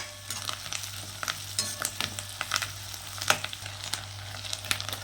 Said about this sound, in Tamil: நல்லா கிளறி விட்டுட்டு இது இப்படியே கொஞ்சம் நேரம் எண்ணெயில் நல்லா வதங்கட்டும்